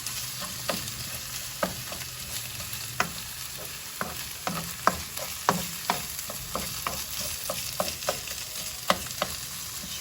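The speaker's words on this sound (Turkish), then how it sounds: "Bunları böyle kavuruyorum." Karnıyarık ingredients frying in a pan, a low steady sizzle punctuated by frequent sharp spatula scrapes and clacks as they are stirred, close and with no speech.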